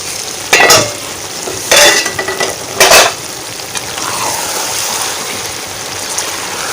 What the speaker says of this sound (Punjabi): ਇਹ ਸ਼ਿਮਲਾ ਮਿਰਚ ਥੋੜੀ ਜਿਹੀ ਹੋ ਗਈ ਫਰਾਈ, ਹੁਣ ਜ਼ਿਆਦਾ ਨਹੀਂ ਕਰਨਾ।